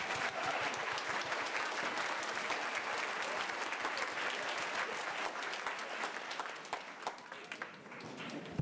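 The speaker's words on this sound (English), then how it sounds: "One more round of applause." A concert audience applauds a school jazz ensemble after its opening number. The clapping is dense and sustained, then thins out and fades toward the end, with faint voices underneath.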